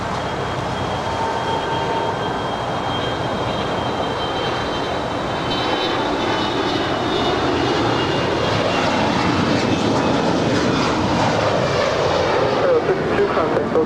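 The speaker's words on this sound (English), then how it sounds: "All the information we have is it's a Gulfstream 5." A Gulfstream 5 business jet takes off at Los Angeles International Airport, its engine roar building steadily into a loud, sustained rumble with a rising whine, while voices talk over it.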